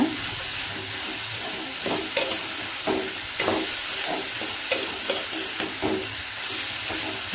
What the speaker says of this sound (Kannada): ಈ ಉಳ್ಳಾಗಡ್ಡಿ ಜೊತೆಗೆ ಈ ಕಾಳು ಸಮ ಸ್ವಲ್ಪ ಫ್ರೈ ಮಾಡ್ಕೊತೀನಿ